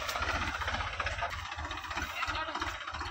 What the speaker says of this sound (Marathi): तर मित्रांनो आपण ट्रॅक्टर आता इथून घालत आहे.